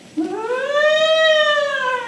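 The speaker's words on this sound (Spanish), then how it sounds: "el ruido de una sirena" A single siren sound effect, a clean tonal wail that enters abruptly, sweeps upward, holds and then slowly dips, loud and alone with no other sound.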